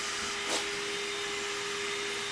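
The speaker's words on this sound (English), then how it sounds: "And there's Rick vacuuming." A vacuum cleaner runs steadily at a moderate distance with a constant whining drone and one brief louder surge near the start, heard during home carpentry while wood courses are being laid.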